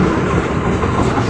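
Mumbai Express train pulling into Goma station, a steady loud rumble of rolling wagons with a faint clickety-clack of wheels on rails, heard close and continuous without talk.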